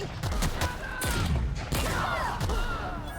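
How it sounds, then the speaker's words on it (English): Grenade launcher fire in The Outer Worlds: a few heavy, booming thumps with explosive crashes spread over a few seconds, loud and close, under game ambience. "Wanna try out the grenade launcher first though."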